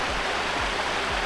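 Fresh stream water gushing from a coil hose after a valve is opened at a high-country campsite, a steady close hiss with faint low thumps repeating about every half second.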